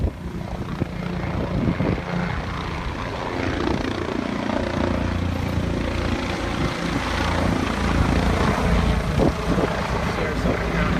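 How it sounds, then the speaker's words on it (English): Sarasota County Sheriff's Office helicopter flying low over a brush fire near homes in Venice, making water drops, with a steady loud rotor drone that holds throughout and people talking over it. "here comes the helo again after a pickup"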